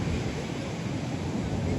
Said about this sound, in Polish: nie mogę się nadziwić jak ta tam siła tych fal jest przy tych skałach